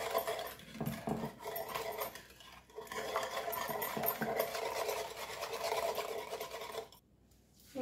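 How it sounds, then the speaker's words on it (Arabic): Eggs being whisked together with semolina by hand in a bowl, a steady scraping, clinking stir that runs continuously at close range before a brief pause near the end. "دابا غادي نخدموا هذا البيض، هذا معاه السميده حتى تذوب لنا."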